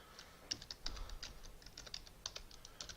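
Keys clacking on a computer keyboard as a word is typed in a design program, an uneven run of light, close, fairly quiet taps over faint room noise.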